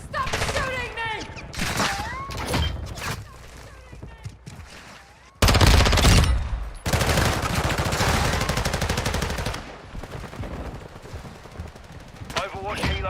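Gunfire in a military shooter video game: dense bursts of automatic fire and rattling shots, with a sudden loud blast midway and sustained firing afterward, under shouted voices.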